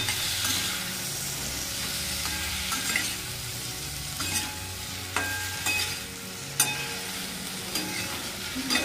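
Spices are stirred into tomato chutney in a hot pan, with a spoon scraping and tapping against the pan over a soft, continuous sizzle, close by, and with no one talking.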